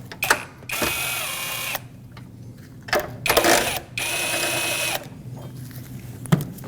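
A power tool unthreads the 10mm battery hold-down nuts on J-hooks in a Nissan Frontier, loud close-up bursts of whirring and ratcheting in several separate runs with short pauses and light metallic clinks between them.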